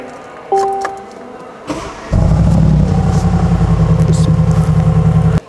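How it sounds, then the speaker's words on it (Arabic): A Mercedes G-Class Brabus 800 starts up with a sharp crank and bursts into a loud, deep exhaust rumble that settles into a steady, throbbing idle close by, after a few small clicks and knocks. "صوت الاكزوز يا حبيبي"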